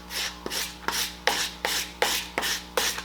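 Foam axe prop blade being sharpened with a rasp, eight even rubbing strokes in a steady rhythm, close and dry with a scratchy texture.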